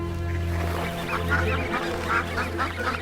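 Wild ducks quacking repeatedly in short nasal bursts, moderately close, over a steady low hum of background noise.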